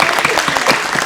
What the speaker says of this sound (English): Give her a clap!